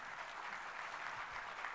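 An audience applauds a Turkish classical music singer on stage, a steady, soft wash of distant clapping with no voices.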